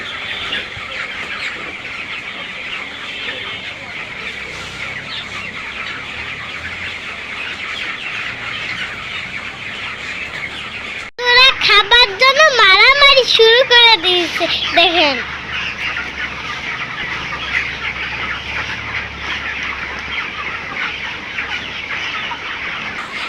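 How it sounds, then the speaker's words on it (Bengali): Hungry chickens on a village farm cluck and squawk in a loud burst midway, with calls rising and falling over steady background noise, while people talk nearby before and after. "মুরগিগুলো অনেক খিদা লাগছে মা তো খাবার দিতেই ব্যস্ত রয়েছে"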